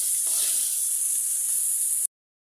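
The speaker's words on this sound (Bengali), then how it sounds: "পেঁয়াজগুলো হালকা লাল করে ভেজে নিয়েছি" Chopped onions with salt sizzle steadily in a hot frying pan, a loud, even hiss that holds for about two seconds and then cuts off abruptly.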